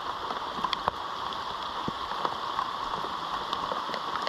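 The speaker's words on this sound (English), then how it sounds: "We did not have this rain in mind." Steady rain falls on Cadron Creek in Greenbrier, Arkansas, a continuous close hiss of drops hitting the water with scattered louder splashes throughout, and no one speaking.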